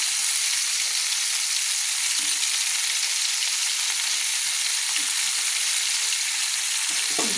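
Carrots and other vegetables for a winter vegetable khichuri sizzle and fry steadily in a pan, with a few soft scrapes of stirring near the end and no talking.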